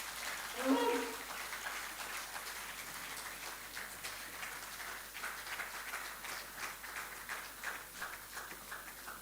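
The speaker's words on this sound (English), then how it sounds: "Please, ladies and gentlemen, a round of applause as we welcome His Majesty." An audience at a formal event on a just transition in Nigeria claps in steady, moderately distant applause to welcome a royal guest, with a speaker's voice heard briefly at the start.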